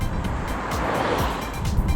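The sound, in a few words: tire tread noise inside car while driving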